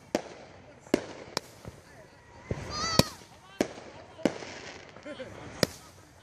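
A small Red Wave 200-gram mine cake firework fires a series of about eight sharp, distinct bangs spaced unevenly over a few seconds, with people talking faintly between shots.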